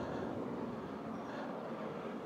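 A steam train rumbles past near Blackpool in a continuous, fairly faint roar with no voices.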